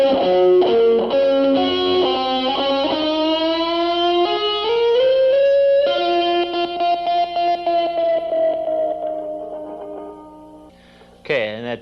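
Distorted electric guitar playing a sweep-picking lick slowly, quick note runs climbing into a long sustained bend that rings and fades, ending with a short burst.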